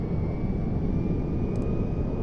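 Jet engines of a B-2A Spirit stealth bomber idling in the game GTA 5, a steady broadband roar with a faint constant whine, alone and unbroken.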